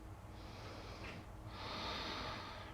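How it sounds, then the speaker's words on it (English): A person breathes out slowly through the back of the throat, making a soft, rasping growl like a gentle snore, heard twice in close, quiet succession with a brief pause between. "breathing out through the back of the throat. So allow for that gentle growl or snore"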